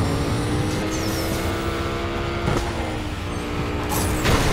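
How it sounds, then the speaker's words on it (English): Supercharged car engine in the mobile racing game Need for Speed No Limits, a steady layered mechanical drone with thin high whining tones drifting above it, loud and continuous with a brief swell near the end. "Supercharger."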